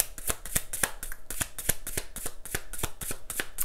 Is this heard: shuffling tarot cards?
yes